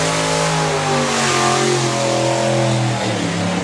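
A supercharged outlaw drag racing car launches and accelerates hard down the strip, its engine roaring loud and close with a rising harmonic whine for several seconds, no voices over it.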